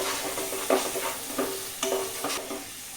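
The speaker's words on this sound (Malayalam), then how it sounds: "ഇനി ഇത് നല്ലപോലെ വഴറ്റാനായിട്ട് അനുവദിക്കും" Onions being sautéed and stirred in a pan while cooking vendakka mottathoran, a soft continuous sizzle with several quick scraping stir strokes, close and alone without talk.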